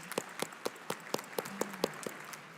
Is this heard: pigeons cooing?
no